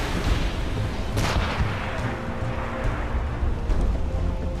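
Ship cannons fire in a naval battle in Assassin's Creed Rogue, a dense rumble of booming volleys with a sharper blast near the middle, loud over a continuous low roar of the sea battle.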